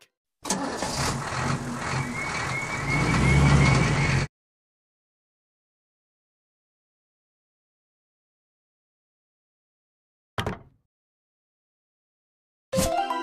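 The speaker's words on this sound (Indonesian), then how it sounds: "Mobil derek." Tow truck sound in a kids' vehicle game, with an engine starting and idling loudly for about four seconds before stopping abruptly. Later come a short blip and the start of another sound.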